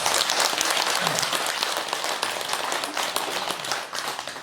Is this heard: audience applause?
yes